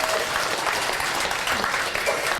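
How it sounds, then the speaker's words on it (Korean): Applause from a seated audience at a Korean women's organizations' policy agreement ceremony with a presidential candidate, a dense, steady clapping that fills the whole stretch without letting up. "다시 한번 제 생각이 맞다고 인정하신다면 큰 박수로 화답해 주십시오."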